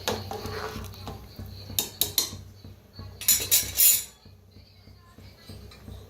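A spoon stirs spiced rice with a little sugar in a pot, giving a few bright metallic clinks and scrapes over a steady low hum, with busier clatter around the middle.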